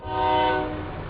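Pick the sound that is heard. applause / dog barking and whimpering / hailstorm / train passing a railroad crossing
train passing a railroad crossing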